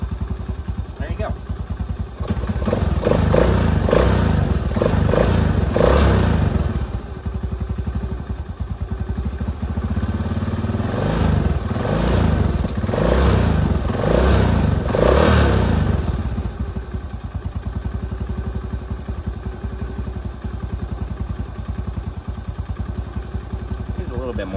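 A four-wheeler ATV engine runs steadily without the choke, a loud, close mechanical drone with rattling clatter and slight revving swells before settling toward a steady idle, and people talk over it.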